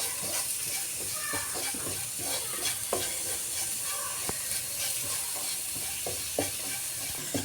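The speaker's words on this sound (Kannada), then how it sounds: "ಒಂದು 3 ನಿಮಿಷ ಹಸಿ ವಾಸನೆ ಹೋಗೋ ತನಕ ಹೀಗೆ ಫ್ರೈ ಮಾಡ್ಕೊಳ್ಳೋಣ ಫ್ರೆಂಡ್ಸ್." Chickpeas (kadale kalu) frying in a pan for a quick recipe, a continuous soft sizzle broken by scraping spoon stirs and occasional knocks against the pan, fairly close and even in level.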